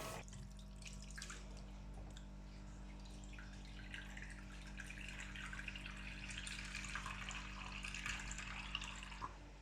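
Running water splashes and drips steadily as mutton is washed under a tap, with soft handling sounds; fairly quiet and continuous.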